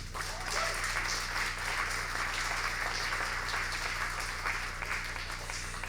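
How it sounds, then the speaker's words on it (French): An audience applauds at an awards evening marking the 30th anniversary of a French-language authors' association. The clapping is steady and dense, heard from somewhat far off, fairly quiet, and continues without a break and without voices. "On peut l'applaudir."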